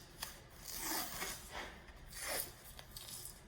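Athletic tape is pulled and pressed around an ankle in soft, quiet strokes, a few rasping rubs and brief peeling sounds close by.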